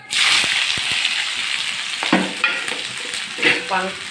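Chopped onions sauté in a pan of hot oil already holding popped mustard and cumin seeds for a paneer butter masala gravy, a steady close sizzle broken by a few stirring scrapes and clatters.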